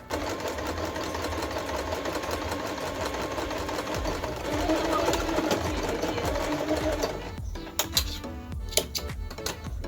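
A sewing machine stitches closed the lining of a traditional shweshwe skirt, a fast steady whirring patter close up that runs continuously, then stops and gives way to scattered clicks and handling noises.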